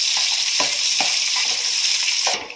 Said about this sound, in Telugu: ఇట్లా ఆనియన్స్ వచ్చేసి ఇట్లా బ్రౌన్ షేడ్ వచ్చేంత వరకు వేయించుకోవాలి